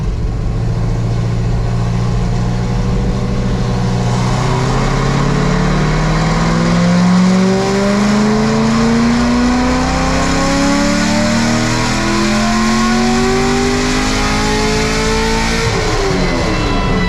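Car with an LS7 engine revving and pulling away, a loud, steady engine roar that rises in pitch through repeated climbs across seventeen seconds, close up and with no talking.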